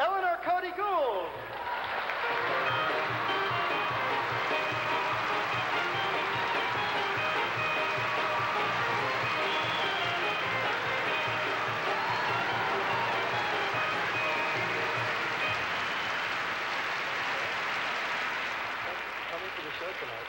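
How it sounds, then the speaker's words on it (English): A theater audience breaks into loud, sustained applause and cheering, with a dense wash of clapping that holds for about twenty seconds as a performer is welcomed on stage at Carnegie Hall. "let's bring her out with a rousing applause, Eleanor Cody Gould!"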